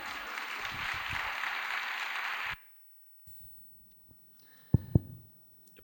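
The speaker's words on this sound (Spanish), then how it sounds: "Aplaudid si queréis" Conference audience applause from a large crowd, a broad steady clatter of many hands for about two and a half seconds that stops abruptly, followed by near silence and a couple of faint knocks.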